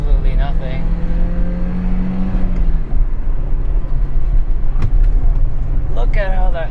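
A manual Citroen Xantia accelerates at full throttle, a steady low engine drone with a rising tone, heard from inside the cabin. A few brief vocal sounds come near the end.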